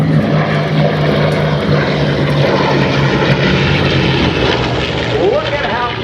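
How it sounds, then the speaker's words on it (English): A Japanese Zero warplane maneuvers at the 2014 Houston air show, its propeller engine roaring loud and steady with a rising-falling pitch as it turns and dives, while a voice talks over it. "Look at how quickly the Zero is able to maneuver and get turned around and dive in."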